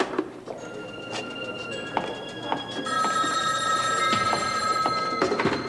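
A telephone rings repeatedly in an indoor soap-opera scene, bright electronic bell bursts standing out clearly over a low room ambience.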